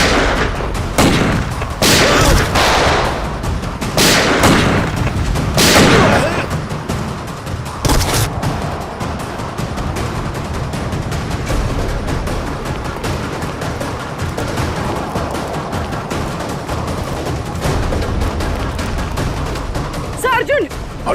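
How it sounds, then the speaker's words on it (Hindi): A TV crime drama shootout delivers several loud, sharp gunshot bursts in a cluster early on, then a dense, continuous clatter and rumble of action noise with occasional talk beneath. "तो गोलियां चल रही हैं।"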